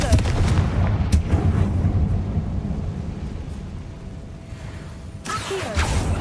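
A Confringo spell blast in a Harry Potter video game bursts out as a deep, rumbling boom with a sharp crack near the start, trailing into a long low roar and a second surge at the end.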